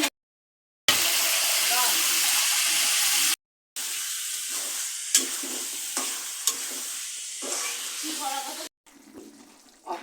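Pigeon meat frying in a pan with steady sizzling, broken by brief silent gaps and occasional clatter of a utensil stirring, with a short quieter stretch near the end.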